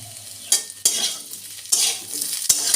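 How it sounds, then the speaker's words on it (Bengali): Potato pieces fry in a pan with a bright, steady sizzle, broken by a few sharp scrapes and clinks of a utensil stirring them, close and loud with no voices. "ঢাকা দিয়ে দিয়ে ভেজে নেব এটা আলুটা একটু হাফ সেদ্ধ হয়ে যাবে"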